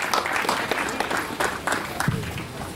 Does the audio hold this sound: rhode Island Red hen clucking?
no